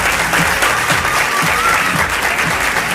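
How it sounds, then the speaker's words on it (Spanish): An audience at a cultural ambassador election event in Villa Ángela gives loud, dense applause with crowd murmur mixed in, continuous throughout. "Fuerte los aplausos para el primer embajador cultural de la ciudad de Villa Ángela, Tomás Aquino"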